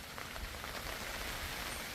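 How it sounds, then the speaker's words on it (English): Light rain falls steadily outdoors in Jamaica during outdoor cooking of ackee, corn pork and roasting breadfruit, a soft continuous patter close by with no talking over it. "So rain here now."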